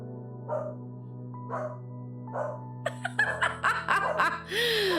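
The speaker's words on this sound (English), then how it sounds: "when my dog barks, my little avatar is barking" A game avatar's cartoonish barks echo a real dog barking, a few short yips spaced out over steady background hum, followed by a busier burst of chattering, laugh-like sounds.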